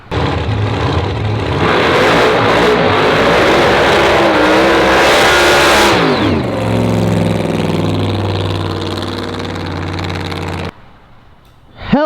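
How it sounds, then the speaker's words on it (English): A Pro Mod drag car does a burnout: a loud, sustained engine roar with dense broadband noise for about six seconds, then a falling, lower-pitched engine note that holds steady before cutting off abruptly near the end. "Hell of a burnout"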